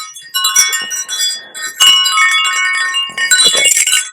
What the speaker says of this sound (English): So it is a wind chime